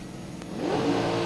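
A bracket drag race car launches off the line after a clutch sidestep at about 8,000 rpm, its engine climbing in a rising, loud revving roar with no talk over it.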